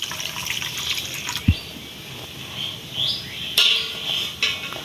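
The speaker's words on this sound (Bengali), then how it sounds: "এখন আমরা কড়াইয়ে চিনি দিয়েছি এবং এখন আমরা পানি দিব।" Water poured into a karai holding sugar while making Fazli mango pickle: intermittent splashing and trickling, with a short thud early on and brief louder gushes, close by, with no talking.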